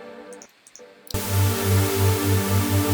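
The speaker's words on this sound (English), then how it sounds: "I'm going to bring the noise down because white noise can be very noisy." Synthesized white noise from an oscillator in Ableton Live switches on abruptly and holds as a loud, steady hiss, with a low pulsing tone throbbing underneath.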